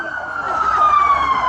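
An ambulance siren passes during an outdoor rally, a single steady wailing tone that slowly drops in pitch as it goes by, fairly loud against the crowd's background noise.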